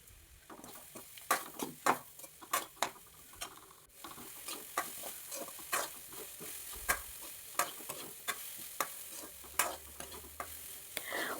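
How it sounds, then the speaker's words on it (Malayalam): Grated coconut sautés in oil for a Kerala pumpkin-leaf thoran, with a quiet sizzle under a rhythm of crisp ladle taps and scrapes against the pan, close and steady, with no speech. "അത് 1 മിനിറ്റ് എണ്ണയിലിട്ടൊന്ന് വഴറ്റിയെടുക്കാം."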